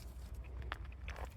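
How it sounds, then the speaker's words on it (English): Close, crisp crunching bites of a small fresh snack apple, several quick crackly chews in a short burst over a steady low background hum. "I'm still crunching my apple"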